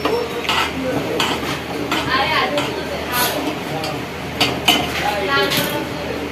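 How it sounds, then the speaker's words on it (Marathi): Kingfish curry is stirred in a pot with a spoon, giving repeated scraping and clinking against metal over a constant background hiss, with people talking throughout. "थोडंसं हळूहळू ढवळ."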